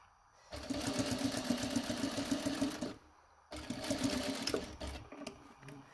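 A sewing machine stitches bright orange bias binding onto fabric in two loud, steady runs of rapid needle chatter with a short pause between them.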